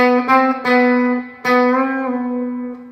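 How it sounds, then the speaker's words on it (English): A clean electric guitar plays sustained notes that bend upward by a half step, a few plucked attacks ringing out with slight pitch rises, no voices. "I'm actually bending a note and it's going up a half a step or a semitone."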